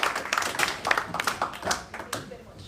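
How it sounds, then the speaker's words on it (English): A small audience at a community panel discussion claps for the panelists, a light, fairly close patter of hands that thins and fades after a couple of seconds, with voices mixed in. "Another round of applause for this amazing panel"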